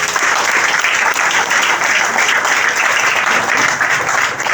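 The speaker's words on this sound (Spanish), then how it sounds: "¿Cuánto le pueden dar un aplauso a nuestro Señor?" A church congregation bursts into loud, dense applause during a sermon on God's perfect will, sustained and even for several seconds, many hands clapping close together.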